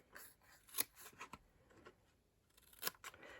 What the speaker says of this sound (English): we are going to just cut a notch